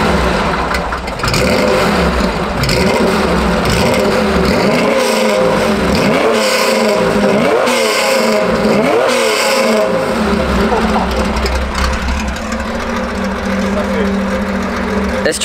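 A loud, rare Porsche 911 engine roars nearby in a series of hard revs, rising and falling in quick repeated blips before holding a throaty, sustained rumble.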